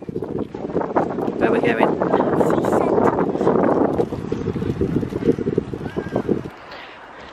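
Gusty outdoor wind buffets the microphone on a walk in Spalding on a winter day, a dense low rumble lasting most of the clip and then dropping away, while people talk over it.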